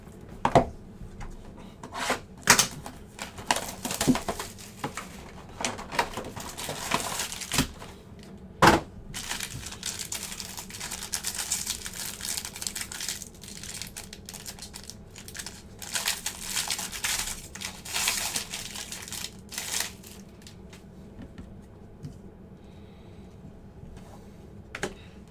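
Football trading card packs are torn open and handled close up: crinkling foil wrappers, sharp rips and rustling card stacks come in irregular bursts, with quieter stretches between.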